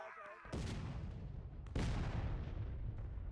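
Cannon artillery booms in the Civil War game War of Rights, two heavy blasts about a second apart, each with a long rumbling tail, loud and close.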